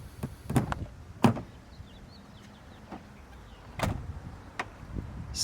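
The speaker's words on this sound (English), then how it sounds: "Self-closing doors, if you notice." A Mercedes S500 W140 self-closing car door pulls itself shut with a few soft, close thuds and clicks, separated by quiet pauses in a calm setting.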